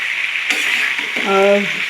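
Spices and vegetables fry and get stirred in a hot pan for a Bengali roti curry with panch phoron, green chillies, cumin, coriander, turmeric, salt and a little sugar. A close, steady sizzle runs throughout, with a brief stir clatter and a short tonal whine near the end.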